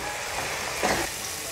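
Onions with ginger-garlic paste sizzle steadily in a hot pan, a continuous close frying hiss with a brief louder burst of stirring midway; no one speaks.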